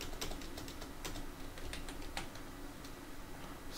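Quick, faint clicks of keys on a computer keyboard as Python code is typed, an uneven rapid patter heard close with no talk.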